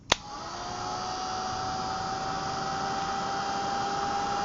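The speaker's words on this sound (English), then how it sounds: "Hold the heat tool still over a point until you start to see it change." An embossing heat tool blowing over white embossing powder, a sharp click as it switches on, then a steady, close blowing roar with a high whine that holds at the same level.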